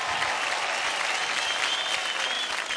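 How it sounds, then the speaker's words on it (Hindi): Loud, sustained audience applause from a studio crowd at a televised dance competition show, a dense steady wash of clapping filling the whole stretch without talk. "जोरदार तालियां हो जाए उनके लिए"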